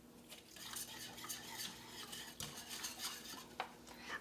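Allulose being stirred into a hot mixture of melted butter and milk in a pot, with soft steady scraping and clinking of a utensil against the pan throughout, fairly close and continuous, no talking.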